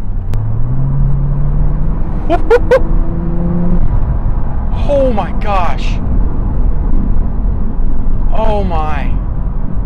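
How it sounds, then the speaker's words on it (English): A Porsche 911 Turbo S launches hard, its engine note rising in a steady rumble with a climbing tone as it accelerates. Excited exclamations from occupants break in over the continuous, loud engine roar. "We are going to do a launch of this car."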